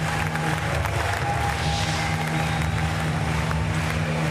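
Arena crowd applauding and cheering at the Paris 2024 Paralympic powerlifting event at Porte de la Chapelle Arena, a steady dense wash of clapping and crowd noise with low hum underneath, no clear talk.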